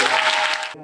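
A short, loud burst of audience clapping, dense and close, stops abruptly after under a second.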